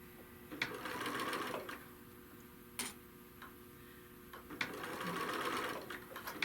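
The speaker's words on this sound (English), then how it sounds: "So we've sewn it the one time, and then we're sewing it again." A sewing machine stitches a bag handle for a second pass, its quiet rhythmic ticking and whirring in short bursts separated by sharp clicks, close and faint with no talking.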